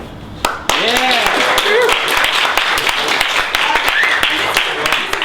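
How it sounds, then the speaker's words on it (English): Audience applause at a design debate, steady and loud clapping from a crowd, with some voices and calls mixed in throughout. "Can I have a round of applause for the individuals on the four?"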